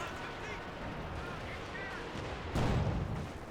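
Katyusha rocket barrage in Company of Heroes 2 striking at a distance, a dense rumbling roar of blasts that swells into a heavier impact near the end, with faint battlefield voices underneath.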